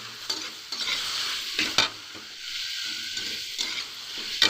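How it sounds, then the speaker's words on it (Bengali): A spoon scrapes and stirs turmeric and a ground spice paste into potatoes in a frying pan while they cook. Quiet, irregular scraping strokes come over a soft, steady sizzle. "দিয়ে এবারে ভালো করে আমরা নেড়ে নেব।"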